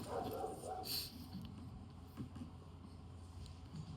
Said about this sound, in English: I can hear my dog barking at nothing.